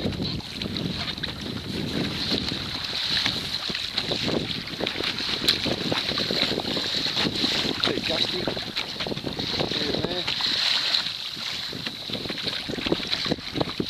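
Wind buffets the microphone in a constant roar while choppy water slaps and splashes against a Hobie Mirage Outback kayak sailing on the Broadwater at Runaway Bay on the Gold Coast, Queensland, loud and continuous throughout.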